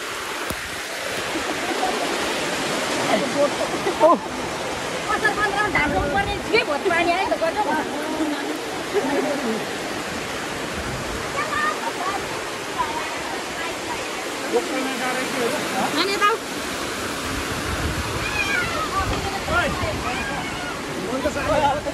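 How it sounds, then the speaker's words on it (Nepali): Steady, dense rushing of heavy rain pouring down in Udayapur, Nepal, with people talking over the constant downpour throughout. "कस्तो पानी परेको"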